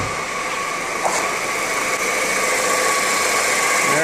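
A Volkswagen Passat engine runs steadily at idle, a continuous loud, close hum and rumble with no change in pitch and no voices.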